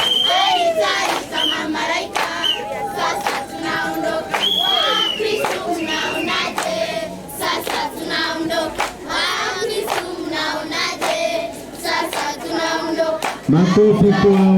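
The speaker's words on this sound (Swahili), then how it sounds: "Makofi kwao, makofi kwao, makofi kwao." A crowd at a Catholic priest's homecoming celebration in Mesaria claps and cheers loudly and continuously, with high ululating voices and shouts rising over the applause throughout.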